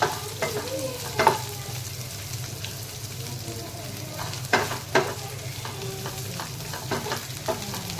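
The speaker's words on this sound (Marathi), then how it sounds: "हे मी बारीक गॅसवर भाजून घेते" Onion and chilies sautéing in a pan over a low gas flame: a continuous soft sizzle with intermittent stirring scrapes, close and moderately loud, with no talking.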